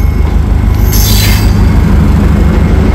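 A train rolls past on railway tracks near road and underpass construction in Solapur, loud and close, with a steady low rumble of wagons and a brief high squeal from the wheels.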